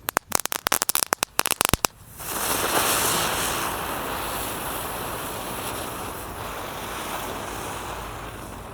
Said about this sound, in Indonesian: yang akan kita nyalakan di sini ada roda gila atau gangsingan